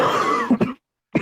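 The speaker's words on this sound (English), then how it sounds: "Yeah, cough it out, boy. Cough it out." Harsh, throaty coughing comes close up in a quick burst, followed by a brief silence and one more rough cough.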